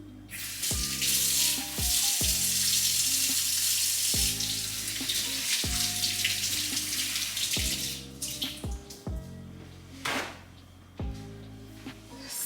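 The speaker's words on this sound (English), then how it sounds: "So I'm just washing my hands." Water runs steadily from a tap while hands are washed at a sink, a continuous splashing stream broken by repeated short knocks and clunks throughout.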